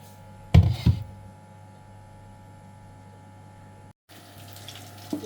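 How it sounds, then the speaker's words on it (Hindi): Water poured into a cooking pot while blending a meat dish, a brief splashing burst near the start over a steady background hum, then quiet. "थोड़ा सा मैं इसके अंदर इसकी कहीं पानी डालूंगी।"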